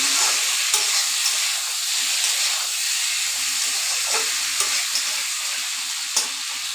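Potato pieces frying in hot oil in a pan give a steady, close sizzle and hiss, broken by a few louder crackles, with no talking.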